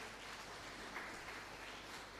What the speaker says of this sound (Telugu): దేవుని గట్టిగా చప్పట్లు కొట్టండి